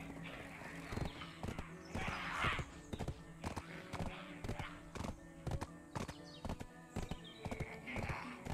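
A donkey in the Black Desert game moves at speed with steady, evenly spaced hoofbeats clopping close by for the whole stretch, with faint talk at times.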